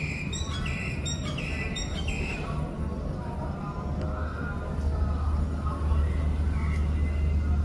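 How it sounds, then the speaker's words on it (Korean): Birds chirp and squawk in a quick run of bright calls near the start, then fade, leaving a steady low background hum for the rest. "새소리 무서웠어."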